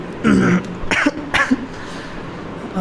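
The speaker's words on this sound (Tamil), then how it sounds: "ரொம்ப இருமல் வந்துகிட்டே இருக்கு." A male teacher coughs repeatedly during a maths lesson, three or four close, rough coughs spaced over a couple of seconds with a brief throat-clearing at the end.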